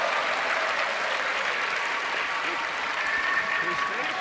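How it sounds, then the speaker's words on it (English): Curling crowd at the 2014 World Men's Championship playoff between Norway and Canada applauding a shot, a steady wash of clapping across the arena, held at an even level throughout with a faint commentator murmur beneath. "the crowd appreciating that one"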